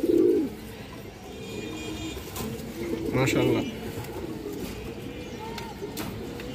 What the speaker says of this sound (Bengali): এই দেখেন খুবই সুন্দর একটা কবুতর দর্শক, মাদি কবুতর বড় সাইজের।